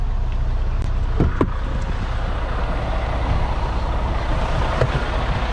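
A lumber delivery truck runs at idle on a front lawn, a steady low engine rumble that continues throughout, with a few faint clanks and knocks on top.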